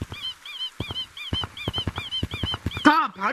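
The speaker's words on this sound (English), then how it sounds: "And it's a rubber ducky." A rubber duck toy in the video game Gorilla Tag squeaks in a rapid, steady run of honking quacks, then ends with a louder, drawn-out squeak.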